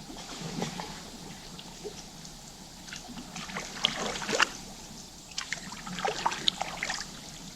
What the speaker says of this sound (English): Just keep paddling, just keep paddling, just keep paddling